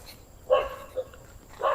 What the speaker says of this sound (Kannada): ನಾಯಿ ಹಿಂದೆ ಬೊಗಳ್ತಾನೆ ಇದೆ.